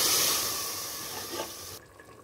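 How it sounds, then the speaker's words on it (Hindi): About two cups of water pour into a pot of minced meat and liver (qeema kaleji), making a brief rushing splash that fades and stops abruptly. "मैंने इसमें करीब 2 प्याले पानी डाला है।"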